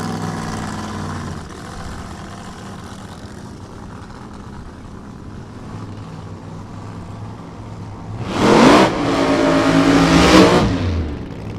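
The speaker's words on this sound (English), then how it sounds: "he'll make the burnout" Drag racing car on the strip at Sonoma doing a burnout, its engine idling and rumbling before two loud, harsh bursts of revving near the end.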